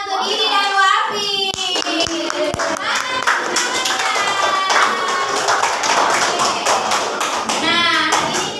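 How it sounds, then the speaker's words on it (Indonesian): Schoolchildren in an Indonesian classroom clap for two classmates, a dense run of quick handclaps mixed with excited kids' voices and chatter, steady and fairly loud throughout. "kita kasih tepuk tangan untuk Didi dan Wafi"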